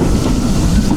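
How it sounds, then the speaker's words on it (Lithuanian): A steam-powered train slowly beginning to brake, its steady low rumble and rail clatter running continuously and fairly loud, with no voices. "Ir jau pradeda traukinukas stabdyti po truputį."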